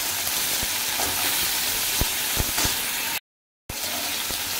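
Tomato and onion frying in hot oil for a soybean gravy, a steady broadband sizzle with a few soft stirring knocks, cut by a brief dropout of silence before the sizzle resumes.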